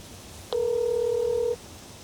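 A single telephone keypad tone, one steady beep lasting about a second over faint background hiss while a number is dialed on a phone, no talking.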